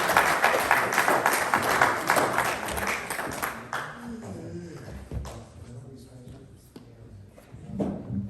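An audience at a Grand Siyum celebration gives a full round of applause, loud and dense for about four seconds, then thinning into scattered claps and murmuring.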